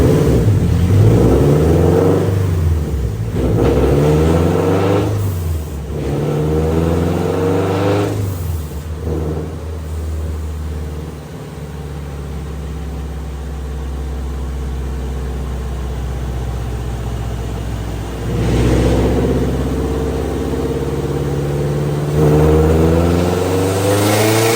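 Turbocharged Scion FR-S fitted with a JDL turbo kit revving hard on a dyno at low wastegate boost, engine note rising and falling in repeated loud pulls with steady whirring between, close and continuous.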